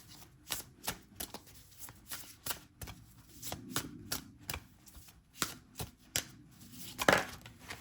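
A deck of oracle cards shuffled by hand during a tarot card reading, giving repeated crisp riffling and snapping bursts at an uneven rhythm, close and fairly quiet, with no talking.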